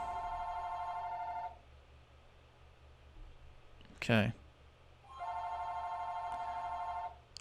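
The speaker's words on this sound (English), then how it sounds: "Can't really do anything about the phone ringing in the middle of these videos." A telephone rings in a room during game commentary, two long electronic ring bursts with a pause between them, fairly loud and clear, separated by a short vocal sound and brief talk.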